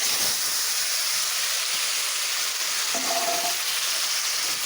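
Boiled taro sizzles in hot oil in a pan with a steady, even hiss of frying that holds for the whole stretch. The hiss is moderately loud and has no talk over it.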